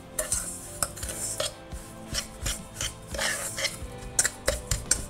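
A spoon scrapes and stirs a cardamom bun filling with ground cardamom seeds in a bowl, irregular close clinks and rasping strokes at an uneven rhythm.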